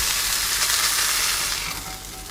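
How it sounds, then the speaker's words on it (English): Beef topside, oiled, sears in a hot pan with a loud, steady sizzle and crackle that fades slightly toward the end, with no voices. "Let's get it straight into the heat. We want to brown this up nicely."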